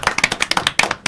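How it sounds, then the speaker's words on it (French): Close, crisp clapping from a small audience applauding a guest, a quick uneven burst of sharp hand claps lasting about a second. "Allez, on applaudit Eloïcha"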